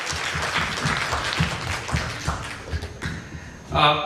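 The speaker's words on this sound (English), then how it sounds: "give them a good round of applause." Audience applause at a golden jubilee reunion of the IIT Kanpur class of 1965, a dense patter of clapping with scattered thumps and voices mixed in, swelling briefly near the end.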